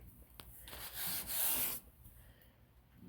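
Surface rust is rubbed off a beach cruiser bicycle in a close, soft scrubbing pass lasting under a second, among quieter scraping strokes and light handling clicks.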